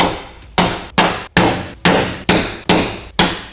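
Seven sharp, evenly spaced hammer blows ring out close and loud as a punch is struck into the sheet-metal door of a Ford Transit cargo van, each hit decaying with a metallic ring.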